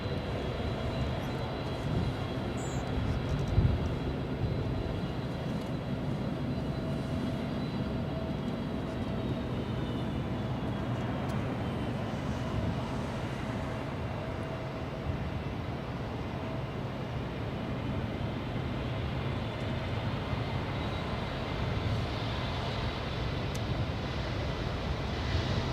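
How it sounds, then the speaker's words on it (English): A Japan Airlines Boeing 787 Dreamliner, a heavy arriving from Osaka, touches down at LAX with a continuous broad rumble of engines and airflow, steady and moderately distant, with a faint whining tone drifting through it. "And there's the touchdown for the Dreamliner."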